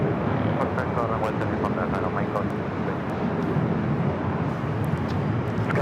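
An Aeromexico Boeing 737 MAX 8 jet roars steadily at LAX, a broad continuous engine noise with someone talking over it throughout.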